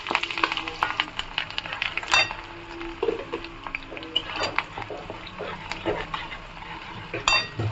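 Garlic pieces fry lightly in hot oil in a pan, a soft sizzle under frequent metallic clinks and scrapes of a stirring utensil against the pan.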